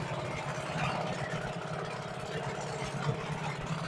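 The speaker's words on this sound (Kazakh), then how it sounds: "Мотор жарты сағаттың көлемінде жұмыс жасап тұр" A HANGKAI 6.0 outboard motor runs steadily at low throttle, a continuous close rumble with a fast, even low-pitched pulse and no pauses.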